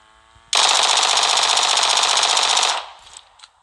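Rapid automatic gunfire from a Vector submachine gun with half grip in PUBG Mobile, one sustained loud burst of about two seconds, then a couple of faint clicks.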